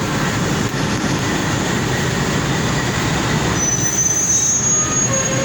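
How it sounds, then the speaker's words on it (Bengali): Diesel passenger train of Bangladesh Railway rolling along, a loud continuous rumble and rattle of wagons with a thin high wheel squeal rising near the end, no voices. "এই হচ্ছে ডিজেলবাহী ট্রেন।"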